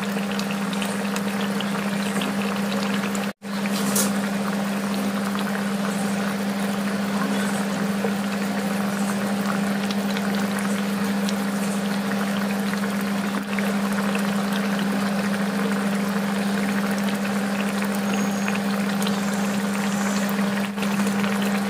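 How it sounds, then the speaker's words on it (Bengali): Fish kofta balls simmering in curry gravy, giving a steady, continuous bubbling hiss over a constant low hum, with one brief dropout near the start and no talking. "এবার এক এক করে আমি এই মাছের কোফতাগুলো গ্রেভির মধ্যে দিয়ে আরও 2 মিনিটের জন্য ফুটিয়ে নিয়ে"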